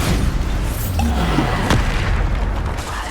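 Bombarda explosion spells going off in Hogwarts Legacy: a loud booming blast with a sharp crack near the middle over a dense, rumbling combat din, with no speech.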